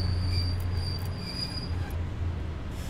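An EU07 electric locomotive in a train simulator coasts toward a stop, giving a steady low rolling rumble with a thin, sustained high wheel squeal that fades out partway through.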